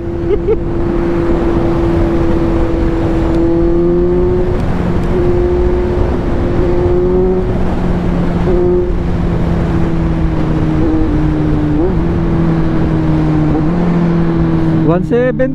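A Kawasaki Z900 SE motorcycle on a test ride gives off a steady, loud engine drone whose pitch shifts slightly with gear changes and throttle, heard close over continuous wind noise.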